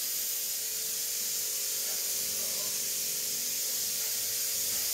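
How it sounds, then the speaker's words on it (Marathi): Steady, continuous hiss of steam escaping from a pressure cooker on a home kitchen stove, holding an even level throughout with no voices over it. "मी घेतला आहे कुकर लावून"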